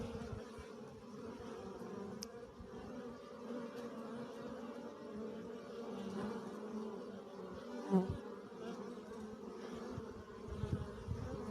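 Honey bees buzz continuously around a hive entrance in mid-February as they carry in pollen, a dense, moderately faint droning swarm with individual bees flying close past now and then.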